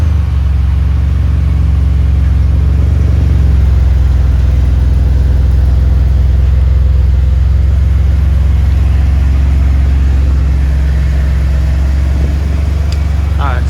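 A 2020 Ford F150 3.5 EcoBoost with an 8-inch AFE muffler idles steadily after sitting a while, its deep exhaust rumble continuous and close throughout, with a slight rise in revs near the end.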